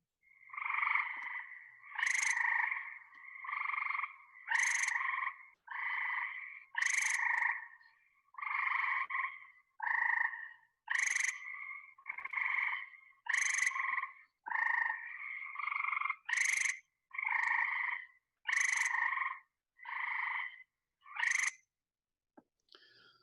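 Gray tree frogs in Maine give loud, trilling calls in a steady series of about twenty bursts with short pauses between, heard alone and close.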